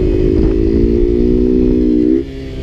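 A Honda Grom motorcycle engine revs hard at full throttle during a wheelie with a steady high whine, then drops abruptly as the throttle shuts near the end.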